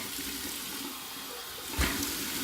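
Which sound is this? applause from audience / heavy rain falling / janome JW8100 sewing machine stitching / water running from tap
water running from tap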